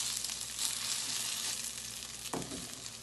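Salmon patties sizzle steadily in a hot frying pan, a continuous close hiss with a brief louder crackle or scrape near the end; no one speaks.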